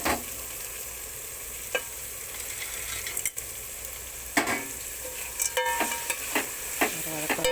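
Soaked roasted chickpeas sauté with onion, tomato and chillies in a pan, sizzling steadily under repeated scraping stirs from a spoon, close and fairly loud.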